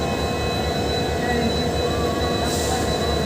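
A train on the Guwahati to Nagaon line pulls out of the station with a constant heavy rumble and faint wheel squeal, loud and close throughout.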